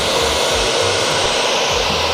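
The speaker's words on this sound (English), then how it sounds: "And now apply the blow dryer." Handheld blow dryer running on low heat and low speed while styling a short shag haircut, a steady loud broadband whoosh that holds unbroken for the whole stretch, with faint low rumbles beneath.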